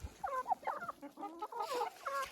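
Laying hens cluck and murmur close by while pecking at a yeast vitamin supplement, soft repeated calls overlapping in a busy little flock chatter.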